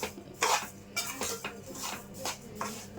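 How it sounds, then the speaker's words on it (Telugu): Metal spoon scraping and clinking against a pan as wheat rava is stirred and roasted, a series of repeated scrapes in an irregular rhythm, close and moderately loud, with no voices. "ఇలా వదిలేస్తే అడుగంతా మాడిపోద్ది అందువల్ల తిప్పుకుంటూ వేయించుకోవాలి"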